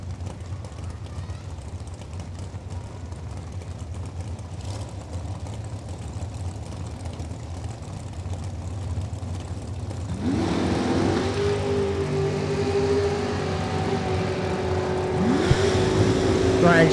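Dragster and door slammer launching off the starting line at a Gamblers drag racing event; a steady engine rumble builds, then a loud rising roar takes over near the end, with crowd and track noise throughout.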